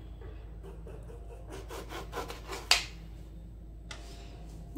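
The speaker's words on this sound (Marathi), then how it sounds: "आता हे लिंबू मी कापून घेणार आहे। लिंबू कापताना नेहमी आडवच कापायचं" A knife slicing lemons crosswise on a cutting board, a run of quick rasping strokes followed by a sharp cut and a later scrape, close and moderately quiet, no talk.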